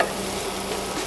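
Finely minced garlic and browned onions frying in a pan, a continuous close sizzle with faint stirring, steady throughout.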